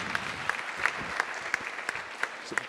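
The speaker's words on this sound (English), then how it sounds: "Round of applause, please." A crowd at a charity awards event claps steadily, a dense patter of many hands punctuated by a few sharp, louder claps and rhythmic accents, with no voices over it.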